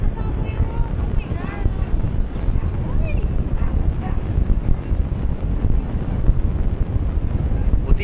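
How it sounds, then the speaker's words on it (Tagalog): Strong wind roars and buffets the microphone outdoors at a residential block in Addition Hills, Mandaluyong, during a fire, a steady rough rush with faint background sounds. "Oh, malakas yung hangin oh."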